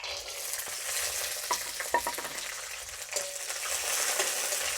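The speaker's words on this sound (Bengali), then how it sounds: "কিছু বাদাম, চীনা বাদাম আমি ভেজে নেব।" Peanuts frying in refined oil in a hot wok, a steady close sizzle with occasional scraping stirs and light clicks from the nuts, alone without voices.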